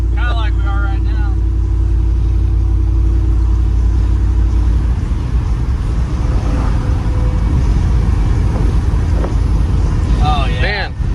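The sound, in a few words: 1994 Chevrolet Silverado truck with LT5 swap driving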